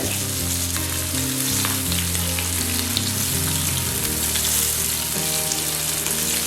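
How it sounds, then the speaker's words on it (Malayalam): Milkfish sizzling and crackling steadily in hot oil in a pan on a small burner, a constant frying hiss with low tonal sounds running underneath. "മീൻ വറുക്കുമ്പോൾ എപ്പോഴും കുറച്ച് ടൈം എടുത്ത് വേവിക്കാം"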